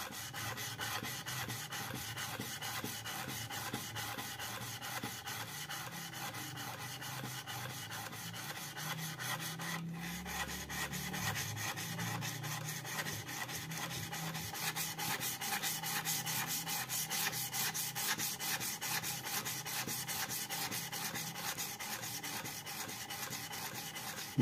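Steady, quiet scraping as a wood chisel is pushed back and forth on a finer grit sharpening stone with gentle downward pressure. The strokes are even and continuous throughout, with no one speaking.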